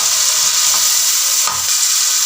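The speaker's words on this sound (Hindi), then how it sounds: "अब हम इसमें टमाटर डालेंगे। टमाटर के बाद हम इसमें ग्रीन चिलीज डालेंगे" Tomatoes and green chilies frying with garlic for beef pulao, a loud dense hiss of sizzling oil with brief stirring scrapes and no talk.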